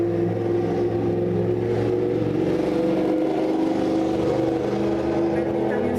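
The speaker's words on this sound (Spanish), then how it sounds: "estamos con un ruido aquí de una moto que va pasando" A motorcycle passes by with a steady engine drone and roar that holds throughout, loud and close, with a voice speaking over it.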